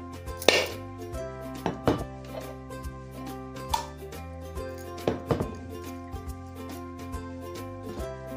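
A dried coconut struck several times to crack it open, sharp knocks spaced a second or so apart over sustained background music.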